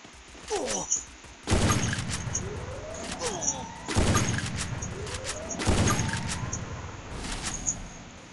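Gunfire in the mobile battle royale Free Fire, heard as three loud, sharp shots spaced a few seconds apart, each ringing out with a short decaying tail, while players talk over the game.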